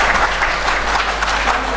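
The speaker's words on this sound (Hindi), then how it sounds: "साथियों से मेरा निवेदन है कि वो जोरदार तालियों से मैडम का स्वागत करें" Applause from an audience welcoming someone speaker at a political gathering, a dense, loud burst of clapping that fills the whole short stretch.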